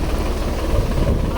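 Tractor engine running on a farm, a steady low rumbling drone heard up close without talk.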